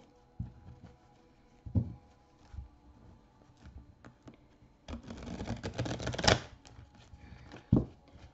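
Playing cards being reshuffled by hand, a run of quick papery riffles and flutters with soft slaps, busiest in the middle and ending with a sharp tap, close and fairly quiet with no talking.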